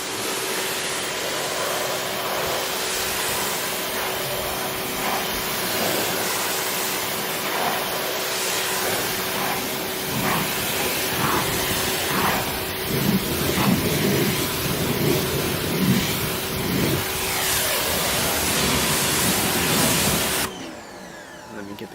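A steady, close hiss of water spray rinsing a 2018 Honda Civic hatchback during a car wash, running continuously for about twenty seconds before cutting off abruptly.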